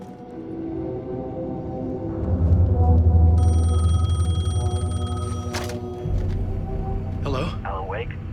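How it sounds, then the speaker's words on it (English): A payphone in Alan Wake 2 rings with a steady electronic bell tone partway through, over a low droning ambience and a brief rising whistle-like sound near the end. "The payphone was ringing."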